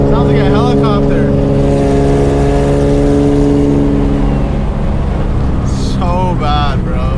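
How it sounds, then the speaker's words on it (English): Loud single-turbo Nissan 350Z engine rumble with a fluttering, chopping, helicopter-like exhaust note from an exhaust leak, revving then settling, while a voice speaks briefly at the start and end. "This exhaust leak sounds like a helicopter."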